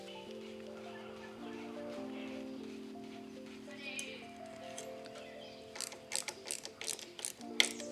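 A pin is screwed into a lever on a 2025 Ducati Panigale V2, a run of small metallic ticking and ratcheting clicks near the end after a stretch of steady tonal background hum.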